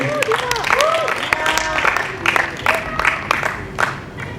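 Applause from a student audience at a manifesto night, a steady patter of clapping with scattered voices and chatter mixed in over the whole stretch.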